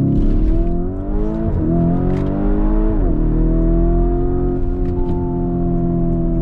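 A Lamborghini Urus with its 650 hp engine revs hard and accelerates, the loud, steady roar rising in pitch through gear changes, close and continuous with no talk.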